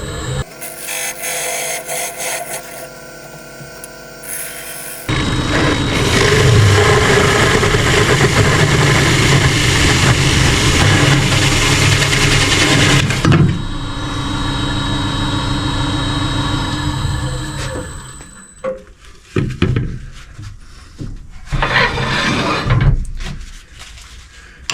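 Lathe taking a light cut on a spalted maple hollowform, a loud steady broadband scraping whir that runs for several seconds, then drops to a quieter motor hum broken by intermittent cutting bursts.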